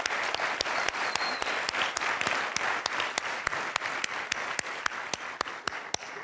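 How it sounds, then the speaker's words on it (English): Audience applause for event organizers at a rally, a steady wash of clapping overlaid by sharp, regularly spaced single claps in a near-metronomic rhythm. "let's give an applause to all of the organizers of this wonderful event today"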